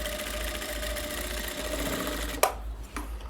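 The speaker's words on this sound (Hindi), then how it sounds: "जहाँ पे फोल्ड किया हुआ है उसके ऊपर जो है हमें इस तरह से सिलाई लगानी है।" A sewing machine stitches along the fold of a kurti coat collar in one steady, close, humming run, then stops with a couple of sharp clicks and a short quiet tail.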